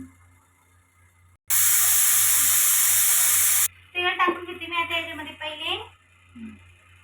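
A pressure cooker holding cooked dal lets off its steam in one loud, steady hiss lasting about two seconds, close by, before people talk over the quieter kitchen.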